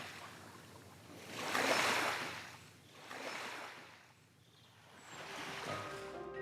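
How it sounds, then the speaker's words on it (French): Waves from a passing motorboat's wake wash against the French coastline in slow, faint swells, rising and falling about three times with quiet gaps between them. "là, on entend les vagues parce qu'il y a une vedette qui est passée"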